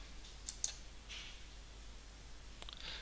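Computer mouse clicks, a few quiet, sharp ticks spaced irregularly over a faint background hum, close and soft.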